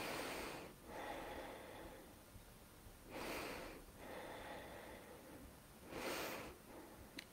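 A person doing an exercise routine breathes in through the nose and out through the mouth. Three slow, airy breath cycles come close and clear in a quiet room, with no talking.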